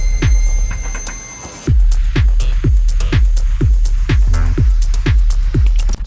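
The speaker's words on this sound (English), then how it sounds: "And you have this little like sweeping up noise." Intense synth noise rising in a sweep within an electronic music track, set against a throbbing beat of regular low pulses.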